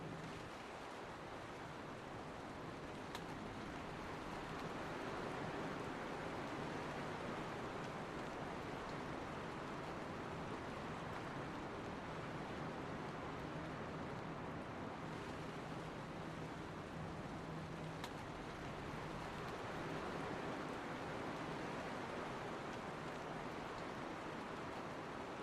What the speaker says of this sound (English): it's actually raining over here.